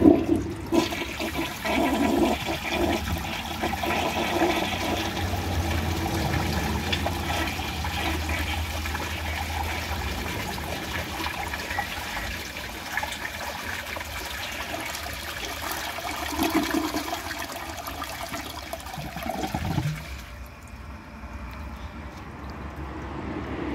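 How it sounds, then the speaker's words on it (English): A 1984 Kohler Cayuga toilet flushes with a long, loud rush of water that runs for about twenty seconds before easing into a quieter trickle and refill. "But let's give it a flush and see how it does on the tests."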